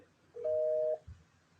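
A single steady telephone tone sounds for about half a second as a call is placed, moderately loud, with faint background noise and a soft thump just after it.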